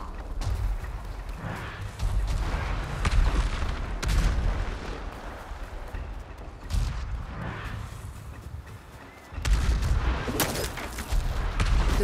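Enemy weapons fire and heavy booms in the samurai game Ghost of Tsushima, loud blasts recurring every few seconds with rumbling decay between them.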